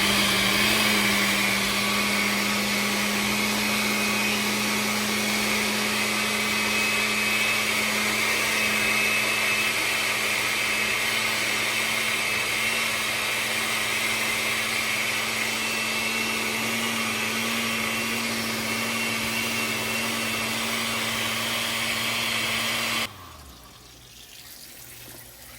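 A blender runs steadily and loudly for more than twenty seconds, blending eggs, aloe and bananas into a hair mask. Its motor whine holds constant, then cuts out abruptly, leaving quieter room noise.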